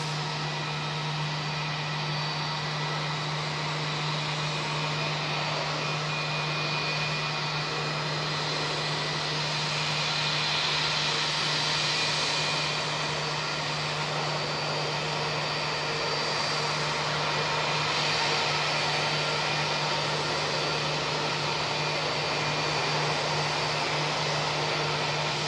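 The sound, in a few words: aircraft brake cooling fans running at Auckland Airport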